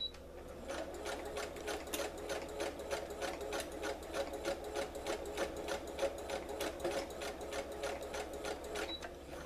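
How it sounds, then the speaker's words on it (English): Sewing machine stitching swimsuit fabric at normal tension, a steady fast mechanical whir with a regular rapid needle clatter that runs continuously, close and unbroken, with no talk over it. "So I'm gonna go ahead and start it, and you just sew like you would normally sew."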